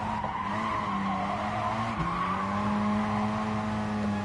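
A Gr4 race car's tyres squeal as it loses traction around the Bathurst circuit in a racing video game, a steady screech over the droning engine note that dips briefly midway.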